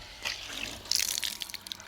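Water gushing and splashing from a borewell pipe, starting softly then growing louder and more turbulent, close by with no voices.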